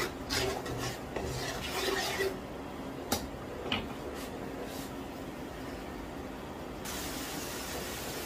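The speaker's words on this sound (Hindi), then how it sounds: "मसाले को मैंने 2-3 मिनट तक पका लिया है" Spices cook in a pan for samosa chana chaat while a spoon scrapes and clinks against the metal, soft quiet stirring with a few sharper taps and a faint sizzle underneath.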